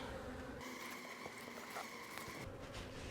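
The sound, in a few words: bees at a nuc hive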